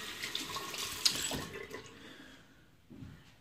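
A bathroom tap runs steadily for a rinse between shaving passes with Williams mug soap, a close, continuous splash of water that tapers off near the end, with no voices.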